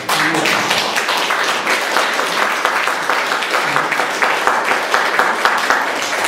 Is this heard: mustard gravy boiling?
no